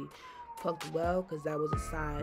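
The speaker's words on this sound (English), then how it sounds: "excuse the siren y'all" Emergency siren from outside sweeps in a steady rising tone underneath a woman's ongoing speech during an at-home hair install.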